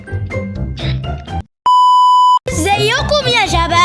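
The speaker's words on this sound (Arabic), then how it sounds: "يا جماعه التليفون" A phone gives one steady electronic beep, loud and held for under a second, landing in a gap between stretches of talk and busy game sound from a Roblox parkour session.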